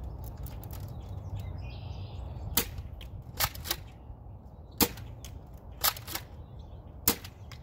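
Several Nerf blaster darts fired in turn toward a bucket, each shot a sharp snap or pop spaced a second or so apart, fairly close and crisp over a quiet outdoor background with faint bird chirps.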